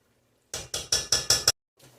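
A spoon stirring refried beans frying in lard in a pan gives six quick scraping, clinking strokes in a steady rhythm, close and fairly loud, then a brief softer scrape after a pause.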